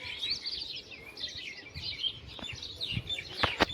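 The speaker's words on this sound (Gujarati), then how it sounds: "જોઈ લ્યો અહીંયા ચકલા ને જો અહીંયા કબૂતર ને હે બધી ચણે હે" Sparrows and pigeons peck at grain nearby, giving light, scattered bright chirps and tweets with a few sharper calls near the end, fairly soft against a quiet outdoor background.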